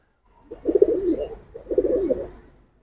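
Silver and bagha pigeons coo at close range, two rolling coo phrases with a short gap between them, alone and without talk.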